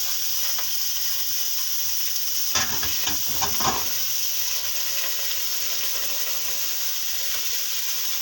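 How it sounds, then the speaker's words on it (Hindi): Meat for palak gosht sizzles steadily in hot oil in a pot, with a few clattering stirs in the middle, close up and without voices. "ये मैंने गोश्त डाल दिया पहले भगोने में।"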